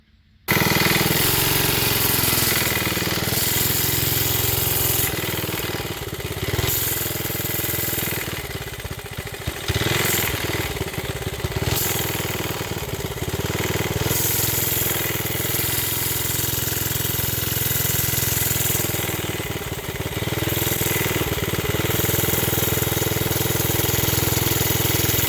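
A Briggs engine starts and runs loud and close, idling roughly, its chugging pulse repeatedly surging and sagging without settling into a steady beat.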